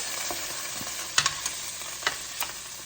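Pork chops browning in a pan, sizzling as a steady hiss with a few sharp clinks and scrapes scattered through it, close and moderately loud with no voices.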